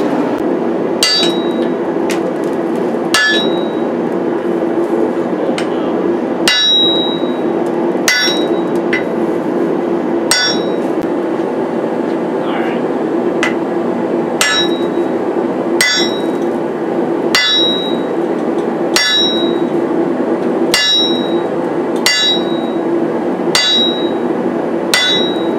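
A hand hammer strikes hot steel while forging a rounding hammer, with loud, ringing blows at a steady rhythm of roughly one every one and a half seconds throughout. The strikes sound close and clear over a low background hum.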